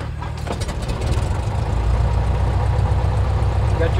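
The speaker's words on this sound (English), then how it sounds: "Then we start the engine." A small training aircraft's piston engine settles into a steady idle just after starting, a loud low rumble building and holding throughout, close to the microphone.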